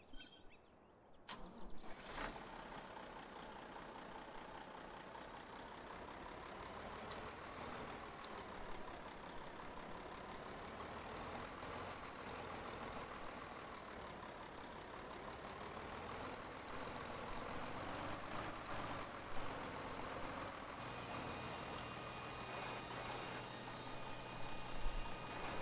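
Farm tractor engine in Farming Simulator 2013 cranks briefly and then settles into a steady, droning idle and run, with a low rumble holding for about twenty seconds and no talking.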